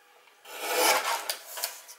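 Paper being cut for a homemade gift box, a soft continuous rasping rub that swells in the middle and ends with a few brief louder strokes, close and alone.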